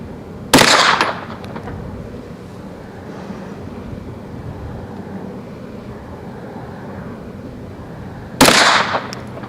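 Two loud sharp pistol shots from a Canik TP9 SFX 9mm at an outdoor range, several seconds apart, each cracking close by and ringing out briefly over a quiet background.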